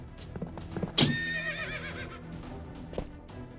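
Horse neighing in the video game Fate Grand Order, a loud whinny with wavering pitch rising near the start and trailing off, with soft hoof clip-clops and game sounds around it and no speech.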